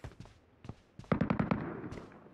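Rapid burst of sharp gunfire in PUBG Mobile, several evenly spaced loud shots in quick succession after a few scattered single reports, with faint background game noise.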